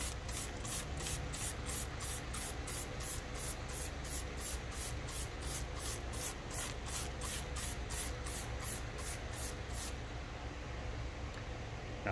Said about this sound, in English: so just spray and rinse